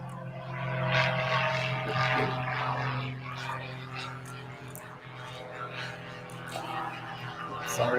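A propeller airplane drones overhead near a Hawaiian beach, a steady low hum that swells and fades slightly while people talk quietly underneath.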